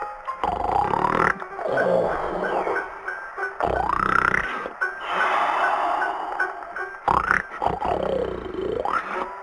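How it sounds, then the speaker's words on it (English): A cartoon bear snoring in a long den sleep, with loud, rough, growly snores rising and falling in steady repeated breaths, close and alone with no talk over them. "Bear snored and snored for many days."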